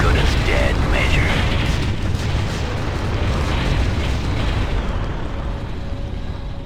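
Continuous heavy rumbling blasts as a structure explodes in the real-time strategy game Ground Control, a dense loud roar of explosions and debris sustained throughout with no voices.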